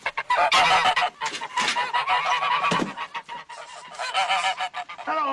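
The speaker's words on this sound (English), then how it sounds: "I brought myself some geese." Several geese honk loudly and close by, a dense run of overlapping calls that continues without a break for about five seconds, with no voices over them.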